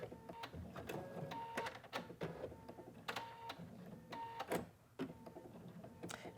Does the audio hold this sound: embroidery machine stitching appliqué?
yes